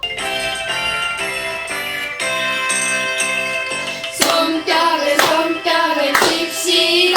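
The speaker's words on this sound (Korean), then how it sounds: "손뼉을 칩시다." A group of seniors claps along in rhythm to piano music during a class activity, steady claps at first under sustained piano chords, then louder, sharper claps in the second half.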